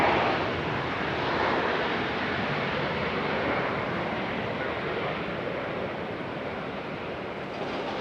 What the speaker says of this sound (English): So we got U.S. Airways ready for departing back to Charlotte